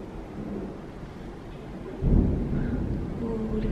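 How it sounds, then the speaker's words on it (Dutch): A thunderstorm rumbles over a steady rain wash, with a deep thunder roll swelling midway and lingering, heard through open windows. "Maar het onweert zo erg."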